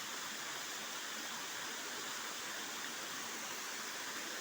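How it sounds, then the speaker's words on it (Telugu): Kommangi waterfall pours with a steady, even broadband rush of falling water, constant and fairly soft throughout, with no voices over it. "ఇదైతే కొమ్మంగి వాటర్ ఫాల్స్ ఫ్రెండ్స్."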